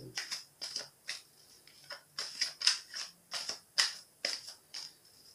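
Tarot cards are drawn and handled one after another, a quick series of about a dozen close, crisp paper snaps and slides in an even rhythm, with no talking.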